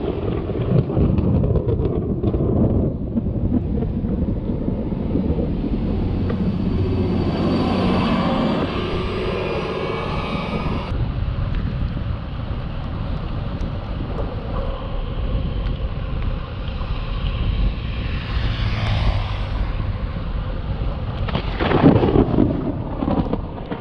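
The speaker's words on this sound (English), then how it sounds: "there was a lot of lightning, and you're going to hear some of this thunder" Thunder from a Florida thunderstorm rumbles loudly and continuously, with heavy rolling peals over rain and wind noise and no speech.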